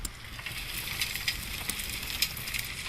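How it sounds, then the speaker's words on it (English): Steady crackling and hissing from a fire loop sound effect in Horizon Worlds, with scattered sharper pops over a continuous rain-like wash at moderate level. "I'm starting to hear your fires."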